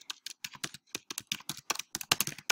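Rapid typing on a computer keyboard, close and crisp, with dense irregular bursts of key clicks and short pauses, no voices.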